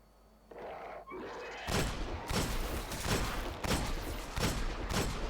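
Rapid, loud gunfire in the Destiny beta on Xbox One, repeated bursts and thumps crowding one another in a dense, continuous barrage.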